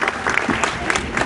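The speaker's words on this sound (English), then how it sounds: "Claps, please." Classroom applause from a fourth-grade class, a short burst of dense hand clapping filling the room at steady loudness.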